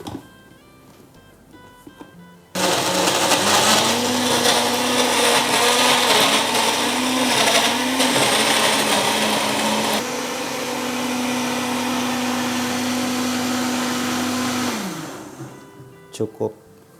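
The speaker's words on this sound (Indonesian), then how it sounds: "Kemudian kita blender." A kitchen blender grinds bird's eye chili peppers for sambalado, a loud steady whirring roar that runs about twelve seconds, shifts pitch midway, then winds down and stops.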